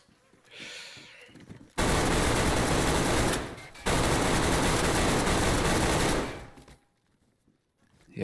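Two long bursts of rapid automatic gunfire erupt in DayZ, the first about two seconds and the second nearly three, loud and dense with rattling impacts, separated by a brief pause and followed by quiet.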